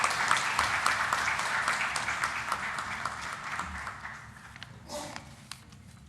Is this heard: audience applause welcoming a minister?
yes